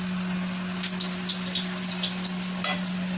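Potatoes frying in a pan give a steady, close hiss of sizzling oil with a few louder crackles and light stirring scrapes, and no voices.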